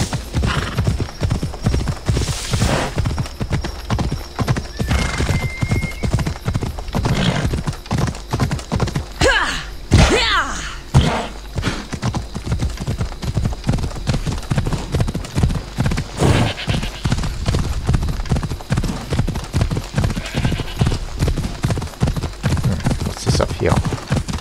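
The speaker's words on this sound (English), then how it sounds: "Let's call the horse." A horse named Phobos walking, hooves clip-clopping in a steady even rhythm close by for a long stretch, with an occasional whinny and a voice talking over it.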